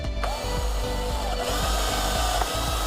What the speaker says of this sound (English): Drill that one.